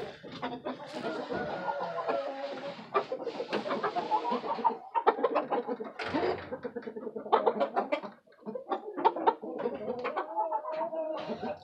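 Chickens cluck and cackle close by in irregular bursts, with several birds overlapping and brief pauses between calls, no talk.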